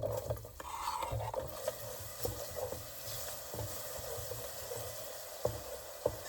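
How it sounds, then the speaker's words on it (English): Onions or shallots stirred through a gumbo pot on a van stove, a soft steady sizzle under repeated scraping and clacking of a spoon against the pot, close by. "I'm gonna toss in these onions, or shallots, I guess."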